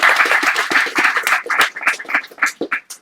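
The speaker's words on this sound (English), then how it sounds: "Let's give them a round of applause." A small audience claps after a poetry reading, a thin patter of hands that starts fairly full and thins into a few separate, slower claps as it dies away.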